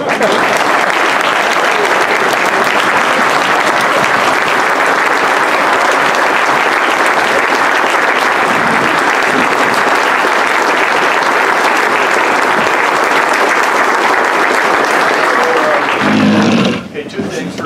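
Rotary Club of York, Pennsylvania meeting audience gives Governor Tom Wolf a long, loud, sustained round of applause that holds steady for about sixteen seconds, then stops abruptly.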